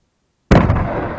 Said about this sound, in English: The golf ball cannon.